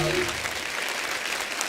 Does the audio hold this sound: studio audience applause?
yes